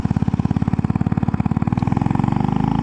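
A Royal Enfield Bullet motorcycle engine running close and loud, with a rapid, even thumping beat that quickens and thickens slightly toward the end.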